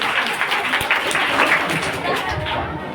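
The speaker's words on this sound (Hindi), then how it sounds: "जोरदार ताली हमारे नेताजी के लिए।" Sustained audience applause at a staged drama program for an Independence Day event, dense and steady clapping from a crowd filling the whole stretch at even loudness.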